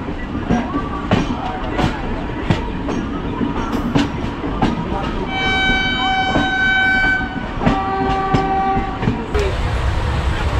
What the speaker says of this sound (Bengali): বিশাখাপত্তনমে ঢুকলো আমার ট্রেনটা